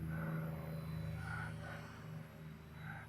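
A small brushed motor on an RCERA C184 MD530 toy RC helicopter whines and buzzes steadily, its pitch rising and falling a little as it hovers nearby in wind, with no talking.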